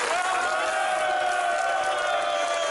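Crowd cheering and applause as UNESCO declares Korea's Joseon-era seowon Confucian academies World Heritage, a steady dense roar of voices held at one level throughout.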